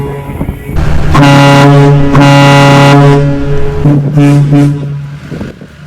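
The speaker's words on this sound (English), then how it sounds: "Now that is a Kahlenberg S203, designed for a ship that's 200 meters in length or up." A deep, loud Kahlenberg S203 ship air horn, made for ships 200 meters or longer, fitted to a lifted truck, blares in a long sustained blast, rich and droning, cutting off with a shorter sputtering tail.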